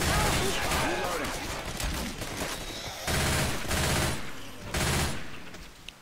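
Gunfire in a Borderlands-style video game crackles in repeated bursts and fusillades, loud and close, broken by brief pauses and reloading gaps.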